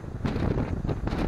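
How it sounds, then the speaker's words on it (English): Blustery wind above the old town of Corfu, Greece, overlooking the sea, buffets the microphone in rough, rumbling gusts that swell and ease across the moment, loud and close. "A very windy, blustery day here."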